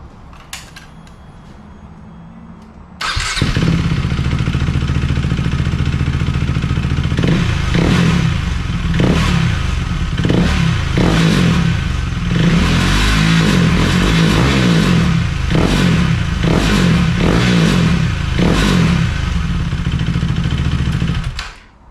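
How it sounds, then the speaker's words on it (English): A Husqvarna Svartpilen motorcycle engine with its stock air filter starts after a quiet moment, then idles loudly and close with a series of sharp throttle blips and revs through to the end. "here's your before installing the air filter engine sound"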